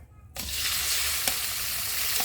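Pork dropped into a modest amount of hot oil in a pan for pork binagoongan, bursting into a loud, steady sizzle that holds throughout, with a few faint clinks of utensils.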